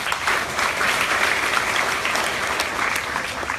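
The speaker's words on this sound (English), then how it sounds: "So first, clap for yourselves." Women at a self-defence training centre in Mumbai clap for themselves, a dense, even burst of many hands that carries steadily throughout.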